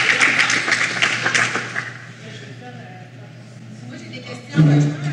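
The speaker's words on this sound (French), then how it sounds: "Ben avant, il faut applaudir" An audience at a panel on collaborative public transit projects claps briefly at the start. The clapping fades into quieter room sound and then a nearby voice.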